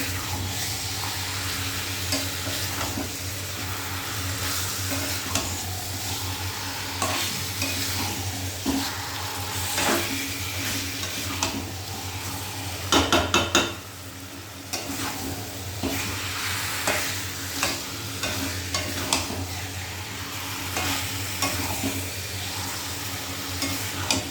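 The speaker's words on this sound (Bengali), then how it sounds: "পুরো মশলার সঙ্গে চিকেনটাকে মাখিয়ে নেব।" Chicken pieces coated in spices being stirred and fried in a pan, a continuous sizzle broken by repeated scraping and clanking stirs against the metal, one brief louder rattle midway, no talk.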